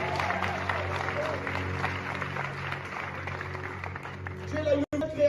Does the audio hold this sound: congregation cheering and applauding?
yes